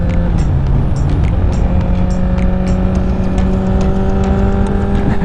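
Honda CBR1000RR super sport motorcycle engine held at a steady high drone with rising tonal whine, loud and continuous, close up throughout with no voices.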